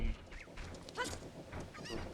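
A cucco, the chicken from Ocarina of Time played on an N64, gives several short squawking clucks in quick succession, fairly faint over a continuous bed of game background sound.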